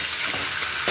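Goat meat (mutton) frying in a pan for a Sunday meal, giving a steady, close hiss of sizzling oil with faint stirring scrapes throughout.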